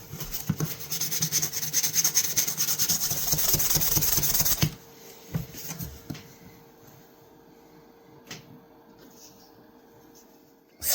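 A knife blade being hand-sanded with 1200 grit sandpaper, giving a steady, close rasping rub for about four seconds that then stops, leaving faint scattered handling noises and quiet room tone.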